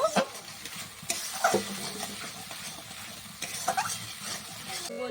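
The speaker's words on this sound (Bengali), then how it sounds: "মশলা থেকে তেল ছেড়ে দিয়েছি, এবার জল দিয়ে দেব" Water poured into a pan of sizzling mustard and poppy seed paste with oil for an eggplant dish, giving sharp hissing bursts and spattering with stirring noises in between.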